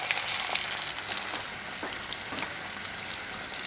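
Vegan chicken deep frying in hot oil gives a steady, soft sizzle sprinkled with tiny crackles and pops, close by and fairly quiet, with no voices.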